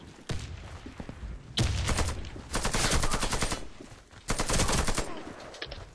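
Bursts of automatic gunfire crackle in a shooter video game, three rapid volleys separated by short pauses, fairly loud and close.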